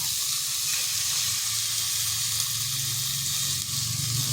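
An egg cracked into a cleared space in a pan of okra, potato and tomato fries with a bright, loud, continuous sizzle, close and steady throughout with light stirring noises and no talking.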